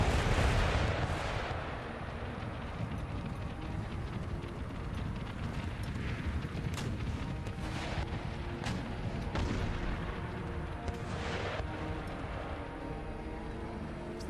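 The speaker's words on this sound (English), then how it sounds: "Mortars are still firing," Mortars firing in Empire Total War battle, a steady barrage of booming shots and rumbling impacts repeating irregularly over a dense continuous battle din, with no talk.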